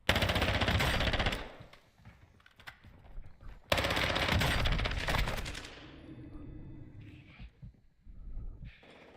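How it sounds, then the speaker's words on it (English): A sentry gun firing in Call of Duty DMZ at Ashika Island, two long, loud, close automatic bursts separated by a short pause, then quieter scattered game sounds as the firing trails off. "There was a sentry gun up there the whole time?"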